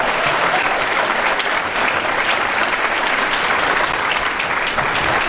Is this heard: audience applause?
yes